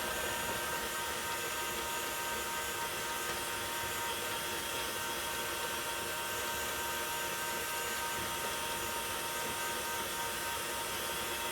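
An electric mixer runs steadily and continuously, beating butter into meringue for Italian buttercream, a dense, even whir with no pauses and no talking.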